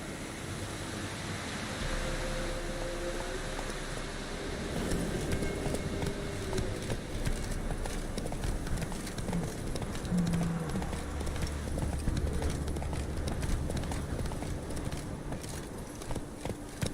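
Roach the horse gallops in The Witcher 3, hooves drumming in a steady clip-clop rhythm under ambient game sound with a faint low rumble, moderately loud and continuous throughout.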